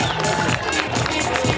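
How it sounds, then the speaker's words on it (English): Brief burst of cheering and clapping from spectators at a summer bouldering competition, a busy crowd roar with voices mixed in. "All right, big round of applause for these guys,"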